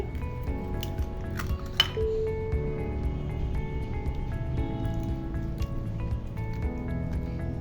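A beaten egg is mixed into rice flour batter for chitoi pitha, producing wet squishing and soft clinks of a utensil against the bowl, with a tonal background hum underneath.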